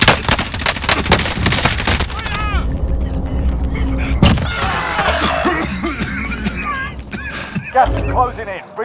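Video game gunfire with rapid automatic bursts of shots up front, then scattered single cracks and background game noise, while voices talk over the action.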